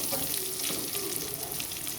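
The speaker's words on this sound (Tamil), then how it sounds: "இப்போ நான் இப்படி தான் பொரிச்சு எடுப்பேன். கொஞ்சம் கொஞ்சமாக தான் போட்டு பொரிச்சு எடுப்பேன்" Meal maker soy chunks fry in a pan of hot oil, giving a dense, even bubbling sizzle that holds steady and close for the whole stretch, with no voices.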